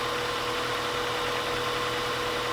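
A car engine turns over continuously during a starter cranking test with a garage battery tester, a steady loud mechanical drone with a faint whine and no voices.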